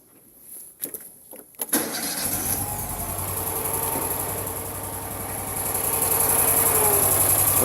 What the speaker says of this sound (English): start the engine, and we'll see where it's set and adjust as necessary